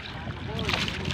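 A rented fishing boat out at sea with hook-and-line fishers aboard gives a short burst of steady wind and water noise, with a faint voice mixed in.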